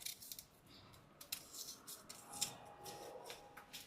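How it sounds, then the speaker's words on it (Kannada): Soft scraping and rasping as the skin is peeled from a tender knol khol (kohlrabi) in a home kitchen, close and quiet, in short irregular strokes with no speech. "ಹಿಂಗೆ ನೀಟಾಗಿ ಸಿಪ್ಪೆ ತೆಕ್ಕೊಂಡ್ಬಿಡ್ಬೇಕು."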